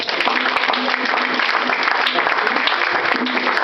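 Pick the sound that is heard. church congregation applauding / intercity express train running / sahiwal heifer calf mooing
church congregation applauding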